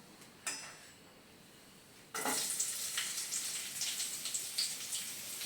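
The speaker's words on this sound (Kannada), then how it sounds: "ಆನಿಯನ್ಸ್ ಫ್ರೈ ಮಾಡ್ಕೋಬೇಕು" Onions hit hot oil and ghee in a home pan with a sudden loud sizzle, and the frying then hisses and crackles steadily and close. A fainter sound comes just before it, and nobody speaks.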